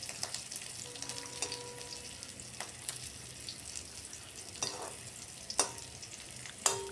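Fish roe fries in a pan with a soft, continuous sizzle while it is turned over. Occasional sharp clicks and scrapes of the utensil stand out near the end, and the whole clip is fairly quiet.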